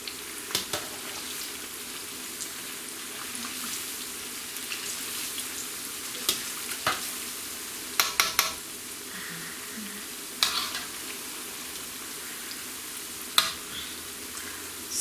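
Plantain puff puff dough balls frying in hot oil on medium heat, a soft steady sizzle running throughout with occasional light clicks and taps, no talking.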